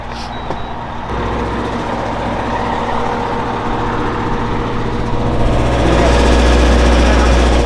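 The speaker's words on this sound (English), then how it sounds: "Generator number 1's back there running. I'm gonna start this one." A generator engine runs steadily with a loud, continuous low drone that swells slightly louder toward the end, a second unit being started nearby.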